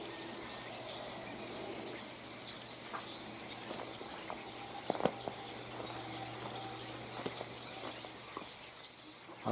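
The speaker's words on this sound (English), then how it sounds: "Listen to them birds." Birds chirp and call outdoors among plum and hawthorn bushes, faint and scattered against a quiet background, with a few soft rustles and footstep-like taps.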